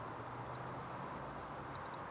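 A multimeter continuity tester on a chafed, blackened trailer brake wire gives a thin, steady beep lasting about a second, then two short chirps, faint over a broad background hiss.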